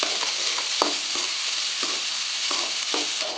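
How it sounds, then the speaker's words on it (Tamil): Washed onions sautéing in a pan for chickpea kuzhambu, a loud continuous sizzle broken by occasional scrapes of a spoon stirring against the pan. "கழுவி வச்சுருக்கிற வெங்காயத்தையும் எடுத்துக்கணும். போட்டுட்டு கொஞ்சம் நல்லா வதக்கிக்கணும்."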